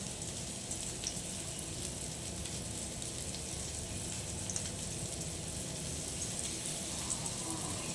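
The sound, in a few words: rava-coated fish frying in oil on a griddle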